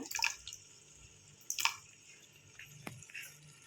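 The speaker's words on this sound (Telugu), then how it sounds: "కర్డ్ వేస్తున్నా అండి నేను." Curd spooned into a hot pan for paneer biryani, a few wet plops and short sizzling splats with quiet pauses between, no voices.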